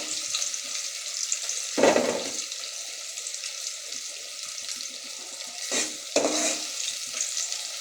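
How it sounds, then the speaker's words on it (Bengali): Chopped onions go into hot oil for a Bengali beef curry, with a broad sizzling hiss throughout and a few louder bursts of spattering and stirring, close and steady, with nobody talking. "পেঁয়াজ কুচিগুলো দিয়ে দিলাম"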